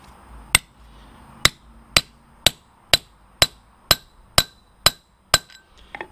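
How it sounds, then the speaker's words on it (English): A metal punch is struck repeatedly to seat an insert into a machine part, giving about ten sharp, evenly spaced hammer blows close up, ringing briefly in a quiet room with no talk. "Hit it with a punch until it's nice and seated."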